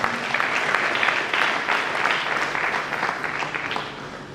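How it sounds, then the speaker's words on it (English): A conference audience applauds steadily for several seconds, a dense wash of many clapping hands filling the hall with no voices over it. "Please give them a round of applause, please."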